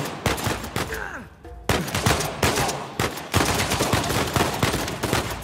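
Rapid gunfire in Uncharted 4 as a character blind-fires from cover, dense loud bursts of shots running almost continuously with a brief lull partway through.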